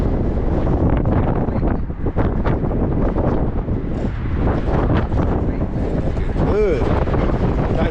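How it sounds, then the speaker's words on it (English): Outdoor wind buffeting a microphone in a steady loud rumble and roar that fills the whole stretch, with a brief higher sound near the end. "Starting to get a little windy out here."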